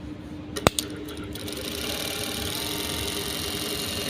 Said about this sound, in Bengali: এগুলো মেশিন এখন সেলাই করে দেখাবো